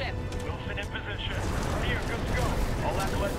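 Rumbling, booming blast in the shooter game Titanfall 2, a dense low roar that swells and holds for several seconds under a player's excited voice.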